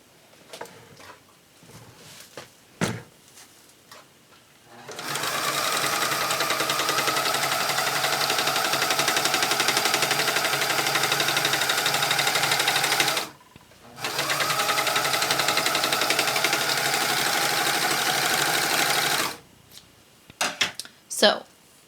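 A sewing machine stitching a pouch made from a T-shirt sleeve, a loud, steady whirring run near the mic, briefly paused and resumed, with handling clatter and talk before and after.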